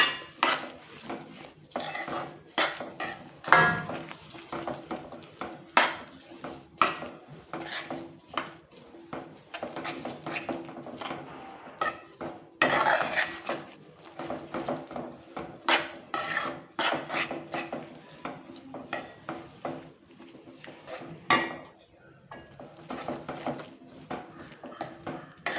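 Sesame seeds being stirred into thick sugar syrup in a pan, a spoon scraping and clinking against the metal in an irregular rhythm of close, fairly loud strokes with no talk.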